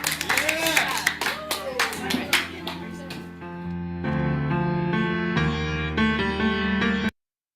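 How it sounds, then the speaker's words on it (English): A group at a peer community healing circle claps together for two participants and themselves. Dense, lively clapping fills the first few seconds alongside a speaking voice, then gives way to sustained music. "Everybody clap for Kazuya and Jennifer and yourselves."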